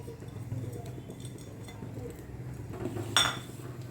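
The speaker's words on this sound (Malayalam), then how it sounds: "നല്ലതുപോലെ ഇളക്കി കൊടുക്കണം." Aval payasam, a flattened-rice sweet, gets stirred in a metal pot with a spoon, producing light scraping and small clinks and one louder metallic clank toward the end, close by, with a low voice audible underneath.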